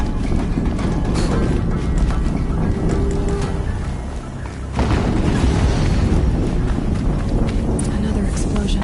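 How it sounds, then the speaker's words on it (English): Explosions rumble through a PS4 war game as a tank battle moves near a church, a loud sustained blast-and-rumble bed with a brief dip midway, under ongoing talk. "Another explosion."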